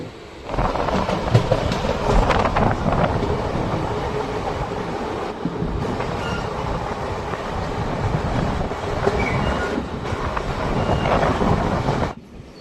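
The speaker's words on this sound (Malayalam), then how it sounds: "നമ്മുടെ ട്രെയിൻ ഇപ്പോൾ തലൈവാസൽ എന്ന റെയിൽവേ സ്റ്റേഷനിലോട്ടാണ് എത്തിക്കൊണ്ടിരിക്കുന്നത്" A DEMU passenger train pulls into Thalaivasal railway station on the Salem to Vriddhachalam line, heard from on board as a steady, loud rumble of wheels and motors that holds for the whole stretch before cutting off.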